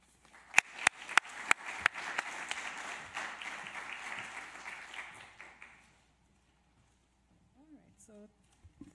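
A seminar audience bursts into applause for an invited speaker, a dense steady patter of many hands that fades out after about six seconds, followed by faint stray sounds.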